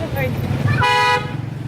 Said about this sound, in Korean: 띠띠빵빵 도시.